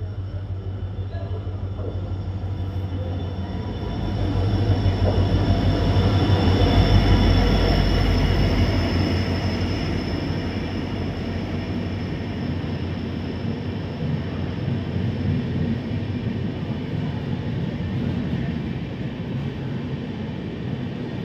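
A Bodinayakkanur AC Superfast Express train rumbles steadily nearby at Bodinayakkanur railway station, a heavy low roar that swells for a few seconds and then settles into a constant drone.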